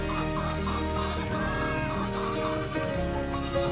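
Goats bleat on a backyard goat farm, with several overlapping calls carrying clearly over a constant outdoor background.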